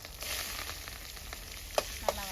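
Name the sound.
spices and onion sizzling in hot oil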